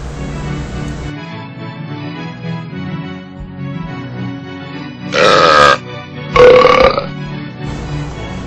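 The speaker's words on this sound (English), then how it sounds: "This first shot, for example, shows a bird burping just as it takes off." A jalapeno burping bird lets out two loud, gurgling belches in quick succession as it takes off, standing out against a steady low background rumble.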